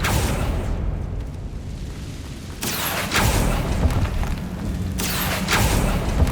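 Spell blasts from Bombarda and Confringo in Hogwarts Legacy go off as two distinct bursts, about two seconds apart, over a steady, noisy ambient bed.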